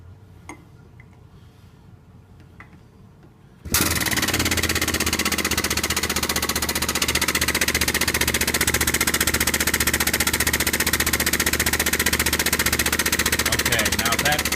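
An ESCO hydraulic pump, model 10592, cycles fluid while being primed. After a quiet stretch it starts abruptly into a loud, steady mechanical drone with a fast, even pulsing that continues to the end.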